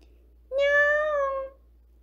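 A woman imitates a cat's meow with her voice, giving one clear, drawn-out mewing cry of about a second, loud and close, with silence on either side.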